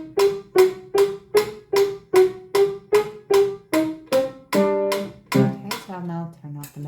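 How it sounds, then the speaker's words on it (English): A metronome set to 152 beats per minute ticks loud and steady, about a dozen evenly spaced beats, then gives way to tonal chords near the end. "I'll now turn off the metronome because it is quite loud."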